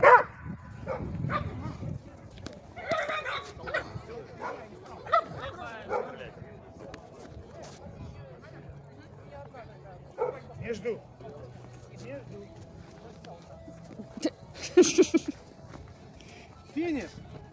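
Dogs in a fetch contest at a fun sports event, with scattered sharp barks, yips and whimpers, some close and some farther off, mixed with footsteps and people talking throughout.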